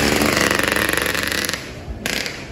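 Honda Vario scooter with a stock exhaust and only the header pipe replaced, its engine revving close by in a loud, rapidly pulsing roar that eases off near the end.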